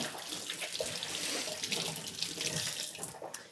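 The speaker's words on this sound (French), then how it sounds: "On va se rincer les mains de fromage." Cheese-covered hands rinsed under a running kitchen tap, a steady close rush of water splashing into the sink throughout.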